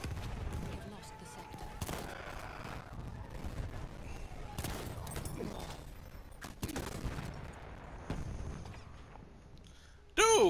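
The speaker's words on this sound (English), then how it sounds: "What is up with this explosion?" Explosions and gunfire in the first-person shooter game Battlefield 1, with scattered bursts of shots and booms at irregular intervals and a loud blast at the very end, all fairly faint and set behind game ambience.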